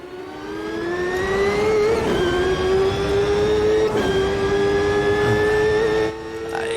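Champ Car engine in the racing game Automobilista 2 at Road America, a loud sustained high-pitched engine whine holding steady with slight pitch shifts through gear changes, continuous and alone for nearly seven seconds.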